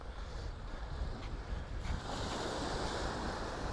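Sea waves wash onto the beach at Waxham on the Norfolk coast, a faint, steady surf hiss with some wind buffeting the microphone.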